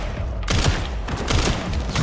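Video game gunfire: a quiet lull, then a sudden dense burst of rapid shots with rattling bass thumps, repeating in quick clusters, fairly loud and close.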